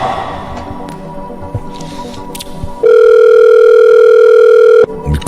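Outgoing phone call signal, a loud steady electronic tone sounding alone for about two seconds after some muffled handling noise.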